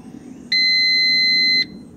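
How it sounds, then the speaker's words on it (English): A pool controller, switched into pool mode by remote to start the pump, gives a single loud electronic beep lasting about a second, steady and piercing over a faint background hum. "You'll hear it beep, and then you'll hear the pump turn on."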